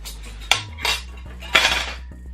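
Metal cutlery clinks against a dish during a noodle and wonton soup meal, with a few sharp, close taps spread across the moment and a steady low hum beneath.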